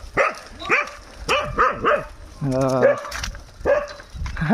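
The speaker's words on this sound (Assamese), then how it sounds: "এই বন্ধুটোৱে আমাক ভুকি আছে, কুকুৰটোৱে" A dog barks repeatedly in sharp bursts, close by, with a longer whining howl in the middle and a few more barks after, in a village near the Dudhnoi river, Assam.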